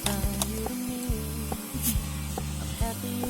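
Hand sanitizer is sprayed onto hands at a school welcome event. Short, quiet hissing bursts come amid a low, rhythmic background hum.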